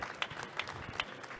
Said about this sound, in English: Applause for Intendent.